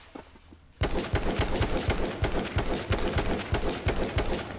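Rapid bursts of 12-gauge shotgun fire in the video game H1Z1, close and loud, with repeated sharp shots in quick succession after a brief quiet start.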